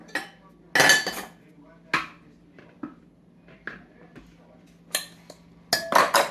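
A measuring cup scoops flour for zucchini bread, making scattered clinks and knocks against a bowl with quiet gaps between them.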